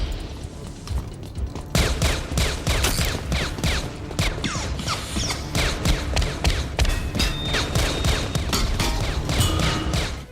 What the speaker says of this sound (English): the unadulterated sounds of extreme gunfire